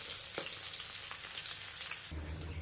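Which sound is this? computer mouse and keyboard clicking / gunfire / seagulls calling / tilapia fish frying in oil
tilapia fish frying in oil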